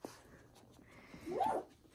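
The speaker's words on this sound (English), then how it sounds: "are you finding your big boy bark?" A young dog gives a single short, high yip-like bark close by, faint and fairly quiet against a soft background.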